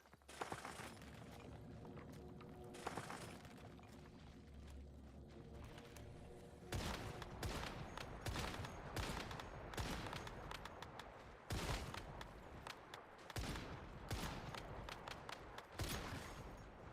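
Repeated bursts of tier 4 gun fire in the game Once Human, in the red sands zone. Sharp shots come in clusters over a steady game backdrop, growing denser and louder in the second half.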